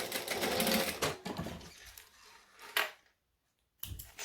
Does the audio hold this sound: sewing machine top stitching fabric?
yes